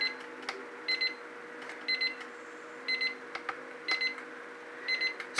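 An electronic timer beeps in repeated short bursts of rapid high pips, about one burst per second, steady and fairly close, over a constant low hum in a room.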